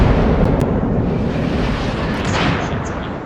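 A battleship's naval gun fires in World of Warships, a loud booming blast that rolls into a dense, sustained rumble lasting several seconds.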